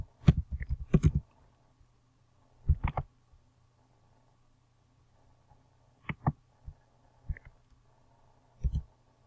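Keyboard keys tapped in short bursts of clicks, a quick flurry at the start followed by several brief isolated clusters spaced across the clip over a low steady hum, close and fairly quiet.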